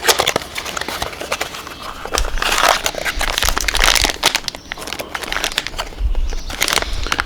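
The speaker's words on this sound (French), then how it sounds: "Je vais le déballer." A packaged replacement air temperature sensor for a car's front intercooler is unwrapped up close, with continuous crinkling and crushing of the packaging in irregular bursts that swell louder in places, all with no speech.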